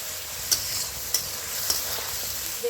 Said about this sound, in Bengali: ভালো করে কষিয়ে দিতে হবে